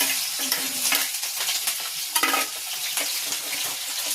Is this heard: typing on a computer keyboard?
no